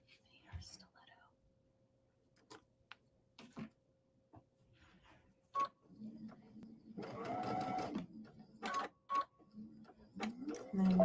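Sewing machine making short reverse stitches to reinforce a seam, heard as brief separated bursts of stitching between soft handling noises and quiet speech, close but fairly faint.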